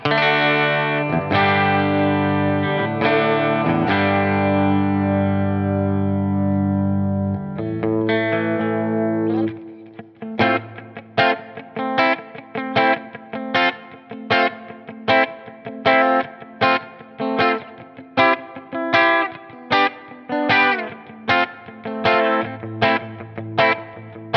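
Electric guitar played clean through a bright, twangy bridge pickup: sustained chords ringing out first, then a steady run of rhythmic picked chord stabs, with no voices.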